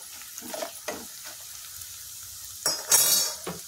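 Puffed rice chivda being stirred in a pan, with several scraping, clinking spoon strokes against the metal and a soft sizzle, ending in a louder flurry of scrapes.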